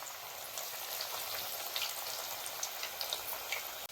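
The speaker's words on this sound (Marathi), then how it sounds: "तळायला टाकलेले आहे. आता बघा हे कसे भाजते ते व्यवस्थित भाजून घ्यायची." Colocasia (aloo vadi) fritters fry in hot oil with a steady, dense sizzle and scattered sharp crackles and pops, close and continuous throughout with no voices.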